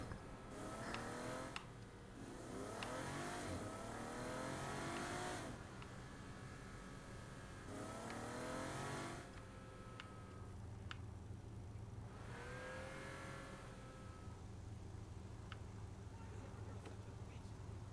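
A car in Saints Row: The Third drives and revs in repeated surging bursts with rising engine pitch, steady road rumble underneath and sharp clicks scattered between, all loud and close.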